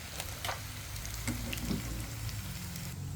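Food frying in oil over medium heat in a home kitchen, a steady soft sizzle with light crackles and occasional faint stirring, heard alone at low level.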